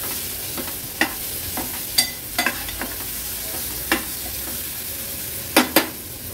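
Baby shrimp sauté in masala in a pan, a steady sizzle with occasional scraping stirs of a spatula.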